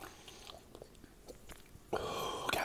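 A person chews raw steak close to the mic with quiet, moist, crunchy bites, grinding steadily and then getting louder toward the end.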